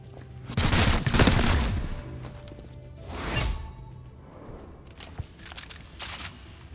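Gunfire from XCOM: Chimera Squad breaks out in loud bursts: a heavy volley early on, another around the middle, then scattered sharper shots, with quieter gaps between.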